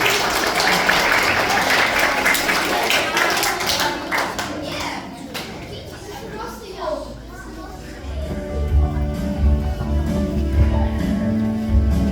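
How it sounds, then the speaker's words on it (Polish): Loud applause from an audience at a children's song contest fills the first half, thinning into scattered claps before music rises underneath. "Duże brawa dla Marii"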